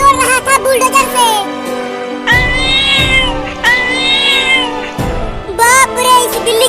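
A large cat meows repeatedly in a loud, close series of drawn-out, wavering cries, with a voice and other sounds mixed in around them.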